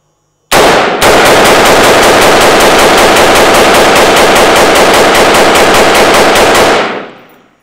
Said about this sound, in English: We're going to do a quick mag dump to see how it works.